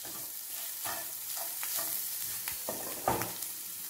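A spoon stirs black pepper, chili powder and salt in a frying pan for a boiled egg masala fry, giving a soft sizzle under repeated scraping strokes with a sharper clack near the end.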